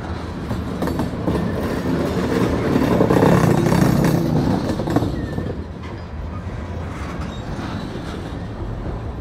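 A CSX freight train rolls past in the Blue Ridge Mountains, its wheels clattering and rumbling loudly and close, swelling to a peak midway, then settling into a steady roll with faint wheel squeals.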